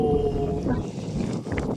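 Strong wind buffets the microphone in a steady, rumbling roar that fills the whole moment, loud and close.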